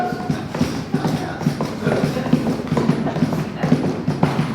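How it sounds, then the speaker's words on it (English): A horse's hooves clip-clopping in a steady, brisk rhythm, fairly close and clear, with no voices over them. "here's a horse"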